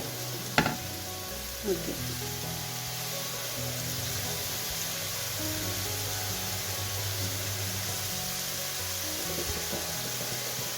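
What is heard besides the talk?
onions sizzling while frying in a pan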